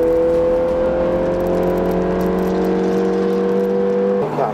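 A loud Ford Fiesta ST engine drones steadily at high revs with a sustained whine on a track lap, pitch dipping slightly near the end.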